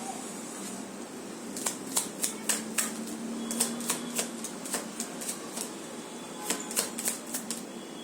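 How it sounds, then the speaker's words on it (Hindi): Tarot cards are shuffled by hand in a quiet room, with repeated crisp riffling bursts and soft flicks arriving in uneven clusters, close and fairly faint, with no talking. "अभी आपके सामने एक शफल करूंगी"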